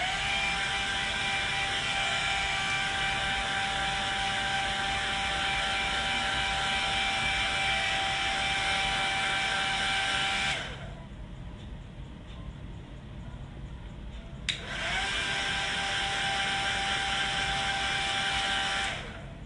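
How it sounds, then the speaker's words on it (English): Handheld hair dryer blow-drying a lace closure wig: a steady, close whooshing blast that cuts out for a few seconds and then starts again, with no talk. "so I'm just gonna blow dry a little bit more."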